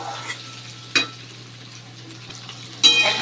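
Chicken and vegetables sizzle in a large kadai with a steady frying hiss, broken by a couple of sharp metallic scrapes of a spatula stirring, the louder one near the end.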